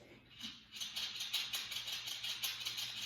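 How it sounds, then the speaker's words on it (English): A soft, rhythmic whirring rattle repeats steadily, a small hand-cranked winder twisting embroidery floss, quiet and close. "That is the sound of the little winder twisting the thread."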